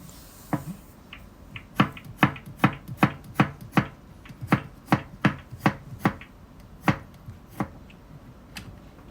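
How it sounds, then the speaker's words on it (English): A knife chops cucumber into small pieces on a cutting board, crisp close-up taps landing in a quick, fairly even rhythm of about a dozen strokes, with no talking. "so cutting the cucumber into the small pieces"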